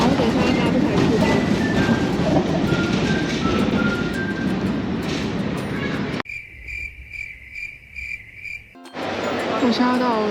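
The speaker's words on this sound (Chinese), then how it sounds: "布达佩斯的这个电车好可爱，是黄色，超复古。" A yellow vintage tram in Budapest runs past with a steady, loud rumble and rattling that cuts out abruptly, leaving a quiet stretch with a repeated high chime before the rolling noise returns.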